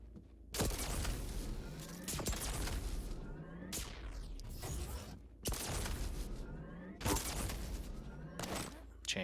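Railgun shots in a Quake Pro League duel, several sharp broadband cracks spaced a couple of seconds apart over dense game noise and overlapping commentary.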